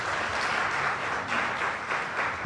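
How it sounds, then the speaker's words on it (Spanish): A church congregation clapping, a dense steady wash of many hands applauding together that continues evenly throughout. "Dale un fuerte aplauso al Señor."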